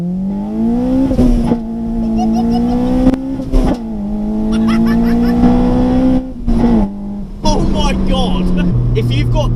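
A modified Honda Civic EP3 Type R pulls hard through first and second gear, its engine note climbing steadily in pitch with brief dips at the gear changes, loud and close. A voice speaks over the end.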